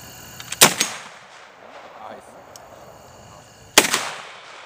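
An AR-15 rifle chambered in .458 SOCOM fires two loud, sharp shots about three seconds apart outdoors, each with a short echoing tail.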